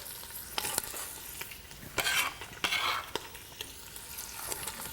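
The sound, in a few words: onion and green pepper added to browned beef, frying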